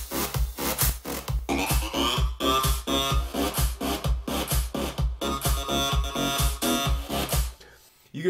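A bright, detuned synth lead, built in NI Massive, plays a loud, steady rhythmic pattern of short stabbing notes over a pulsing bass for about eight seconds with no talking.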